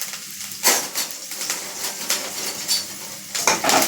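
Curry leaves and chillies crackle and sizzle in hot oil for an onion-free sago khichdi, with a steady frying hiss broken by louder bursts as a spoon stirs and scrapes the pan.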